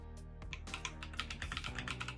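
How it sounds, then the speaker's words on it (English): Typing on an Akko 5075 mechanical keyboard connected by Bluetooth to a Windows laptop: a quick, steady run of crisp, close key clacks with no one speaking. "That typing experience is quite different, especially if you are used to standard keyboards up until now."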